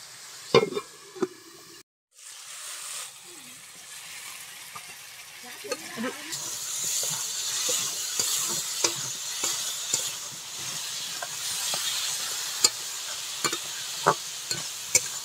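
Malabar spinach with potato stir-fried in a pan for a Bengali dish, an initial clatter and brief silence giving way to a continuous bright sizzle dotted with sharp spatula taps, close and moderately loud, faint voice-like sounds beneath.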